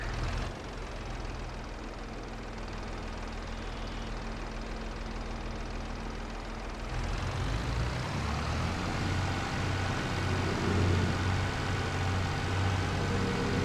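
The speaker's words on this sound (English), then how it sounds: "That's a mini tractor." Mini tractor engine in Farming Simulator 22 idling with a steady low rumble, then revving up to a louder, rougher throb after a few seconds and holding there.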